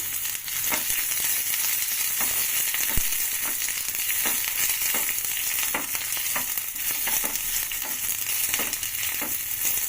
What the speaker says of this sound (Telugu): ఇప్పుడు దీంట్లో ఉల్లిగడ్డ ఇది మంచిగా ఫ్రై చేసుకోవాలి